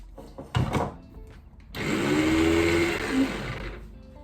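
A blender whirs through overnight oats in a short burst, then after a pause a longer loud steady grinding run close by.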